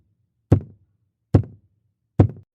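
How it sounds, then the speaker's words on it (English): Three evenly spaced, loud, dull knocks on the ceiling directly above a bed, each a sharp thud with a short decay, separated by silence. "3 knocks, directly above my bed."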